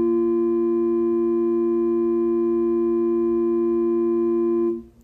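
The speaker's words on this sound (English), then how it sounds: "let's listen to and memorize the good fifths" Two steady sine tones sounding a perfect fifth together, pure and unwavering, held for about four and a half seconds before cutting off.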